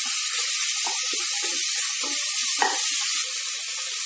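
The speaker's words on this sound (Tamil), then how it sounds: "கொஞ்சம் கிளறி விடுங்க." Chopped tomatoes sauté in a hot pan and are stirred, giving a loud, steady sizzle with scattered crackles and a brief scrape of the spoon, and no voices.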